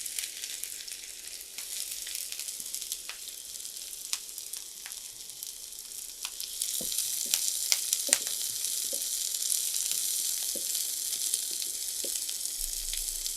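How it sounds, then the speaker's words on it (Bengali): Onions frying in mustard oil in a pan, a steady close hiss of sizzling that swells louder partway through, with scattered crackles and pops and no voices. "এখানে নিয়েছি সরিষার তেল, এটা ভালো সরিষার তেলটা। কিছুটা তেল দিয়ে দিলাম। এখন পেঁয়াজ দিব।"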